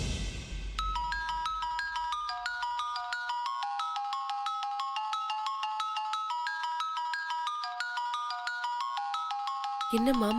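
A phone ringtone plays a bright, repeating synthesized melody for an incoming call, loud and continuous, and cuts off abruptly at the end.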